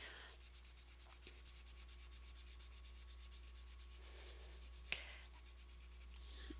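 Colored pencil pressed heavily on paper, a steady dense scratchy rubbing that continues throughout at close range, with one brief sharp tick near the end and no talking.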